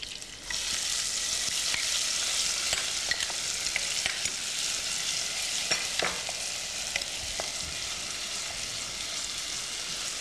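Finely chopped onion dropped into hot oil with crackling cumin seeds: a loud, continuous close sizzle with occasional stirring scrapes, no talk.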